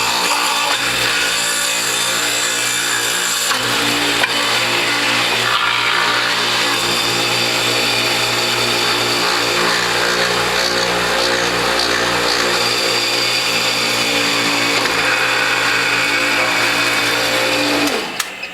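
Juicer grinding carrots pushed through its front-loading feed tube with the number 2 grid fitted, a loud, steady motor whine with rough shredding texture running continuously close up, then cutting out at the end.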